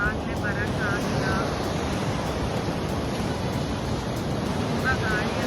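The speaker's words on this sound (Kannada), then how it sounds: "ಹಾಗಾಗಿ ಅಲೆಗಳು ತುಂಬಾ ಜೋರಾಗಿ ಬೀಸ್ತಾ ಇದೆ." Strong wind buffets the microphone over a steady roar of surf at Udupi's Delta Beach after rain, a loud, unbroken wash of noise with faint voices briefly audible.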